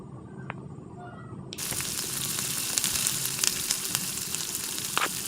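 Chopped onion and green chilli frying in a pan for a mackerel masala, a quiet start then a sudden loud, steady sizzle with crackling pops close by, no talking.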